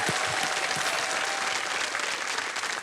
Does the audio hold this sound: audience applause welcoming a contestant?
yes